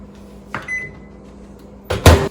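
A microwave oven heating pizza dough in a home kitchen: a faint hum with a brief beep, then a loud clunk of the door or cupboard near the end, with no talking.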